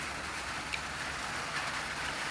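Steady rain falling outdoors, a constant even hiss with a few faint drip ticks, continuous and fairly loud with no talking.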